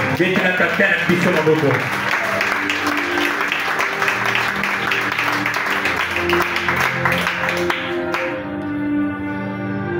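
Loud, dense applause fills a church gathering for about eight seconds, with a voice speaking under it early on, then fades into quieter sound.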